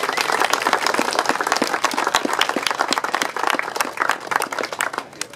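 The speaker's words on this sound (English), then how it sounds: "So can I give a round of applause to those three firstly?" Crowd applause breaks out among the audience at the closing speeches of the Toyota Tour de OROC cycling event in Victoria Park, a steady wash of many hands clapping, fairly loud, close and continuous throughout.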